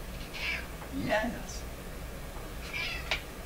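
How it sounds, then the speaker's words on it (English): Peanut, a pet cat, meows in short calls indoors, about three over a few seconds, each close and moderately loud, with a person talking around them. "Oh, I've got a cat here."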